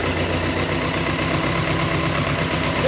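A BMW K100 motorcycle engine runs at a steady idle, loud and close, with an even, continuous rumble and no talking.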